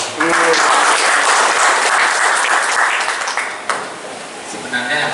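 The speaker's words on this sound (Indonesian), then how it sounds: "Tepuk tangan dulu." Audience applause at a religious moderation forum held at an Islamic boarding school, a loud, dense burst of clapping that fades slightly toward the end, with faint voices mixed in.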